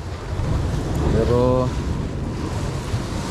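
Sea waves and wind wash steadily around a small fishing boat at sea, a continuous choppy roar close to the microphone, with someone speaking briefly over it.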